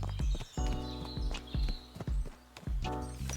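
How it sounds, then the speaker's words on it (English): Horse hooves clip-clop along a path in a medieval video game, a close, steady walking rhythm of distinct hoof strikes over faint ambient sound. "I rode this horse along the path"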